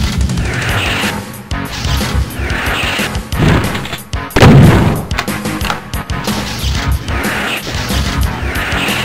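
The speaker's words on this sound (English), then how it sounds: "Alec, it's a spider mastermind. Fire!" Gunfire sound effects aimed at a spider mastermind in a live-action Doom-style scene: continuous loud heavy shooting with booming impacts and crashes, dense and unbroken throughout.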